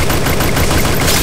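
Rapid automatic gunfire from the battle royale game Garena Free Fire, played in a solo vs squad match, rattles in one dense, loud burst of closely spaced shots.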